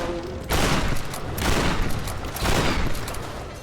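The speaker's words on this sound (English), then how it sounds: "Who's shooting me?" Gunfire in the video game Tomb Raider, loud bursts of rapid shots arriving in waves, close and heavy, with no talking over them.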